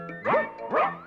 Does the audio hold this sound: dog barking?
yes